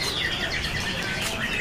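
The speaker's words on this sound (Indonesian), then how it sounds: "Ini ada burung kenari loper ya?" A loper canary sings a quick run of bright, high chirps and trills, fairly near and unbroken, with no voices over it.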